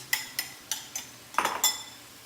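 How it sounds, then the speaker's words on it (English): Shredded cabbage is tossed through a stir fry with hoisin, fresh ginger and sriracha, a run of six quick metallic clinks and scrapes of utensil on pan at a close, even pace. "we're gonna mix in our cabbage, shredded cabbage, and then we're gonna toss that around"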